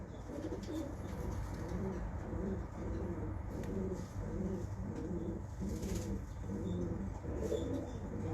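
Pigeons cooing in a breeder's loft, a soft repeated rhythmic cooing from several birds over steady background noise, with no talk.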